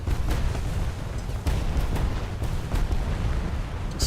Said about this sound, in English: Just trust that the torpedoes will hit.